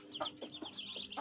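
Chinese bantam chickens clucking softly at close range, a few short quiet clucks and murmurs in quick succession.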